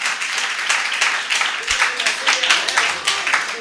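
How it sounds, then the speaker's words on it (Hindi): An audience at a church gathering claps for a speaker, a dense, uneven patter of hands running throughout while a voice keeps talking over it. "इनके लिए जरा ताली बजा दें"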